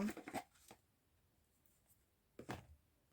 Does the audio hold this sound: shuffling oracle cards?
yes